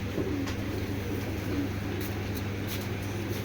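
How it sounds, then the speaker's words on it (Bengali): Two black male pigeons of old-blood, black-necked tota type give soft, low cooing phrases, one near the start and another midway, over a steady background hum with faint scattered chirps. "দুইটাই নর, দুইটাই কালো কালো কবুতর"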